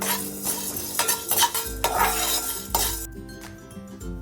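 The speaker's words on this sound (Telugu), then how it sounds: "వీటిని మంట మనం లో ఫ్లేమ్లో పెట్టుకొని దోరగా వేయించుకోవాలండి" Chana dal, coriander seeds and cumin roast in a pan over low flame, heard as scraping stirs and light metallic clinks of a spoon against the pan over a soft sizzle, close and without talk.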